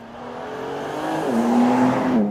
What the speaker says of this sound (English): We are welcoming the BMW M3 Touring to the German Autobahn.